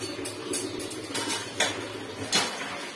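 A wok and other metal pots and pans are washed, clanking and scraping in a run of sharp, close rattles with no voices.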